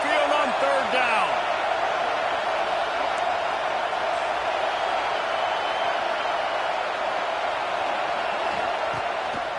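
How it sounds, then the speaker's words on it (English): A packed Alabama Crimson Tide stadium crowd roars on a third down against Arkansas, a loud, steady wall of noise filling the whole stretch, with a commentator's voice briefly audible early on. "The Tide crowd rolling noise down onto Saban Field on third down"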